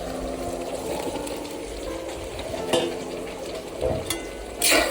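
Cut eggplant pieces go into a spice paste simmering in oil, giving a steady close bubbling sizzle with a few louder splashy stirs, the last one near the end.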